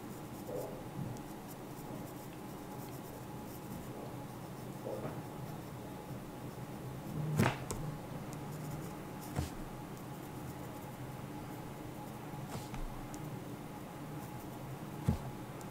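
Ballpoint pen drawing fire sparks above a dragon's flame on paper, a steady soft scratching and rubbing of the tip close by, with a few sharper taps along the way and no talking.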